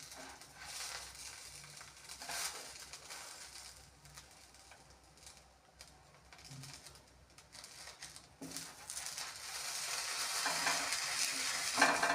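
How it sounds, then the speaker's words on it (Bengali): Chitoi pitha rice cakes fry one by one in a pan with a soft, continuous sizzle that swells toward the end, while faint bird calls sound in the background. "আগে এক এক করে সব পিঠেগুলো ভেজে নিই"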